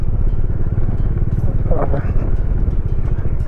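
A motorcycle rides a rough, bad stretch of mountain road on the way from Leh to Khardung La Pass, its engine a continuous close rumble with road clatter.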